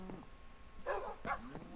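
In the video game Minecraft, a dog gives two short, clear barks about half a second apart, set against a faint background hum.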